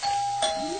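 A two-tone doorbell chime rings once inside a family home during a meal of grilled meat, a clear ding then dong with lingering tonal ring, alone without voices.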